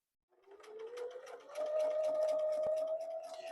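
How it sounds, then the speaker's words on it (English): A sewing machine top stitches the last rows of a flannel strip baby blanket, a close, steady mechanical hum that ramps up, holds a fast even run, and briefly dips near the end, with no speech. "I'm finishing the last of the top stitching."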